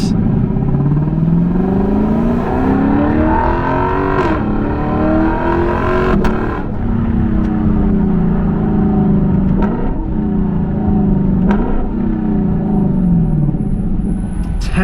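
A 2022 Lexus LC500 with a 471-horsepower engine and automatic transmission accelerates on the road, its loud, close engine drone rising in pitch and dipping briefly at each gear shift.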